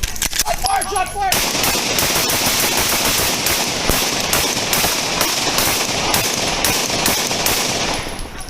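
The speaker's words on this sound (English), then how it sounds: "Shot fire, shot fire." Gunfire erupts during a police confrontation: a dense, loud burst of rapid shots cracking in quick succession for several seconds, with shouting voices mixed in.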